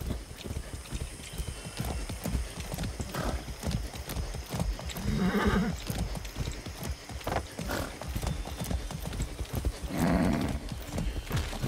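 A ridden horse in the video game Far Cry 6 gallops with quick, rhythmic hoofbeats at close range, and brief louder snorts or whinnies rise now and then.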